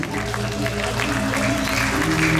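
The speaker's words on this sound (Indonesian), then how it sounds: "tepuk tangan buat Bali" An audience at a Balinese drama gong performance claps together in a steady, dense wash of applause that holds throughout, with music or voices faintly underneath.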